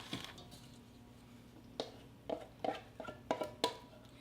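Sour cream and egg mixture being stirred into dry ingredients for Irish soda bread, quiet scattered clicks and thuds of a spoon against the bowl, growing more frequent toward the end.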